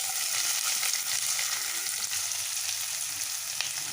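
Mustard seeds, dried red chilies and chopped onion fry in hot oil while greens are being cooked, giving a steady, dense close sizzle that holds evenly throughout with no voices.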